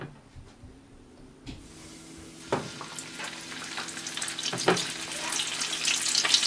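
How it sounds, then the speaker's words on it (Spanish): Flour-dusted chicken legs frying in hot oil, with a steady crackling sizzle that starts after a quiet moment and swells louder and denser toward the end, with no talking. "así quedaron mis piernas de pollo ya fritas"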